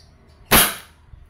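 A single sharp crack from a Crosman SR 357 airgun revolver, a loud snapping burst that decays quickly into near silence.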